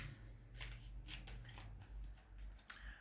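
Tarot cards are shuffled by hand in quiet, soft riffling and sliding bursts with small taps, close and faint, and no talking.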